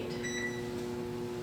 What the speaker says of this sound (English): From the oven, that makes so much noise